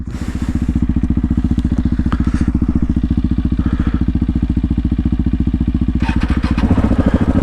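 A loaded adventure motorcycle on a Cape York trip in Cape Melville, Australia, runs with a steady, close, throbbing engine pulse throughout, with a slight rise in intensity toward the end.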